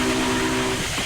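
Steam whistle of a Union Pacific FEF-3 locomotive in Train Simulator 2015, one loud sustained blast with steady harmonic tones that cuts off abruptly, leaving rumbling train noise.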